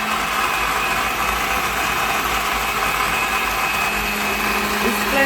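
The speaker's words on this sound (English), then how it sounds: "So I'm just gonna switch my blender on" An electric blender runs continuously while blending ingredients for a Jamaican strong back energy drink, a loud, steady motor whir with a grinding buzz that keeps an even level throughout.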